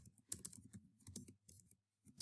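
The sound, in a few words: typing on a computer keyboard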